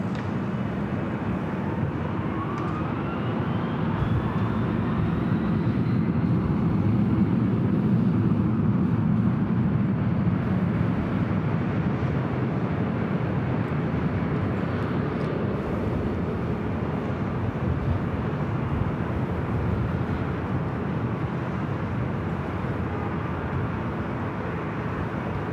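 A jet airliner taking off from runway 24 left at Los Angeles International Airport, a broad, steady engine roar that holds loud and distant over many seconds, with a faint rising whine early on.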